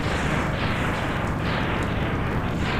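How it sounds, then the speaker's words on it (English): A dense, continuous roar of retro explosion effects fills a boss's destruction sequence in the 16-bit game Mega Man X, loud and unbroken throughout with no voices over it. "Wish these explosion sequences would go by a lot faster."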